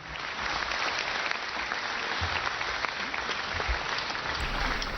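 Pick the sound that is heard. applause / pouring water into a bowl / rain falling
applause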